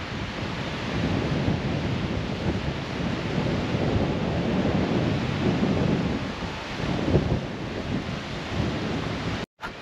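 Strong wind roars and buffets steadily throughout on a cool, windy day in the Philippines, a loud continuous rumble with gusts, cutting out abruptly near the end.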